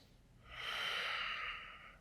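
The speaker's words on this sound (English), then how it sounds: "Take a breath." A deep breath during a yoga session, one slow, airy inhale swelling and then fading over about a second and a half, close and soft with no talking.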